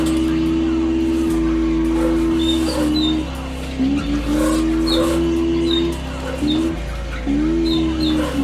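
A Toyota AE86 sliding sideways through a drift in BeamNG, its engine holding a loud, steady drone that dips and rises in pitch with each change of throttle, with faint high chirps of tire squeal scattered through it.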